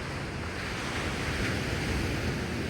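Strong waves break and wash steadily onto a windy beach shore, a continuous loud roar with gusting wind noise on the microphone and no voices.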